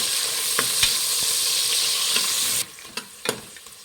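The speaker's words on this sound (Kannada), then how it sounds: "ಫ್ರೆಂಡ್ಸ್ ನೋಡಿ, ಈರುಳ್ಳಿ ಎಲ್ಲ ಚೆನ್ನಾಗಿ ಫ್ರೈ ಆಗಿದೆ." Finely chopped onion fries in a pan for naati-style donne biryani, a loud continuous sizzle with several sharp scrapes of stirring; the sizzle cuts off abruptly partway, leaving a few isolated clanks and scrapes.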